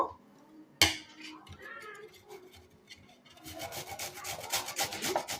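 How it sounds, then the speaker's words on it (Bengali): An onion is rubbed across a kitchen grater for chicken leg masala, starting with a sharp knock, then soft rasping that grows into quicker, louder scraping strokes near the end. "পেঁয়াজটাকে এবার গ্রেট করে নেব"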